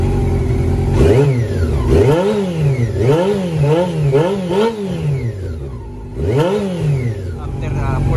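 A Honda CB400 Super Four motorcycle with a faulty rectifier runs nearby, its engine rising and falling through a series of short throttle blips between lower running stretches, with someone talking over it.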